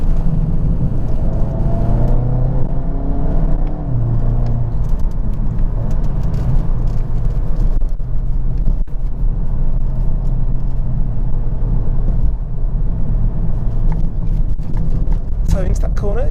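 A Mark 7 VW Golf GTI TCR rumbles over a bumpy track, deep engine and road noise thudding close inside the cabin while someone talks over it.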